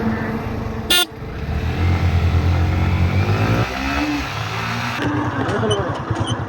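Yamaha MT-15 and R15 motorcycles accelerate in a top-speed drag race, engines revving loudly and rising in pitch, with a short horn-like burst near the start and a shift in tone partway through.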